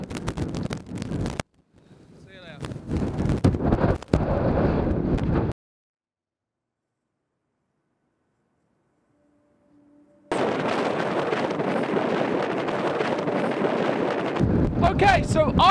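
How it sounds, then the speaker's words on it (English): Strong gusts batter the microphone near the summit of Snowdon, roaring in loud bursts that cut out into a few seconds of silence before returning as a steady heavy rush. "it's quite windy up here"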